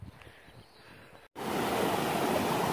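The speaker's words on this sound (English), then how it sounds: "look at this river." A river at a rest area rushes in a steady broadband roar that cuts in abruptly after a quieter, softer stretch of ambience, loud and continuous to the end.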